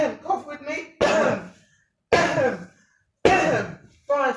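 Repeated short coughs from a person leaning forward in a first aid choking demonstration, four sharp bursts spaced about a second apart, close and loud, with a brief bit of speech at the start.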